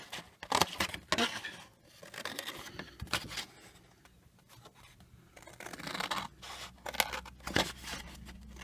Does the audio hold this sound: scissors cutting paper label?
yes